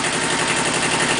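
A Kubota B7000 compact tractor engine runs close by at a steady, even drone, with no talk over it.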